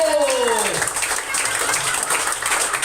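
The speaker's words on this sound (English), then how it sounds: "keep that applause going for the next one, Mr. Tate Pinnock" Comedy club crowd clapping between acts at a weekly comedy festival, a dense, steady roar of applause throughout, with a voice speaking over the start.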